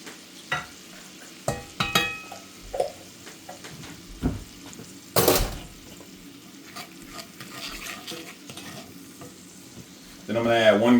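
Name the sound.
minced garlic sizzling as it is added to the pan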